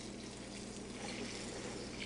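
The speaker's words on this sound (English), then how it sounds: "putting some water in it will help that" Water poured onto dry perlite in a crested gecko egg incubator, a steady soft hiss of pouring and soaking that runs continuously and fairly quietly throughout, with no voices.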